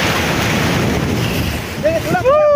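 Rough sea waves wash loudly against a boat with constant roaring surf and wind rumble, and a voice cuts in briefly near the end.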